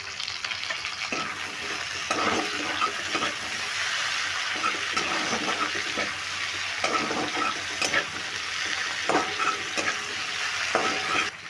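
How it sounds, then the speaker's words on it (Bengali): Chopped small tomato going into lightly fried onions in a hot pan, giving a loud, steady sizzle with repeated spoon scrapes and stirring strokes throughout. "পেঁয়াজটা আমি একটু হালকা করে ভেজে নিলাম এবার দিয়ে দিচ্ছি একটা ছোট সাইজের টমেটো কেটে রেখেছি টমেটোটা দিয়ে দিচ্ছি"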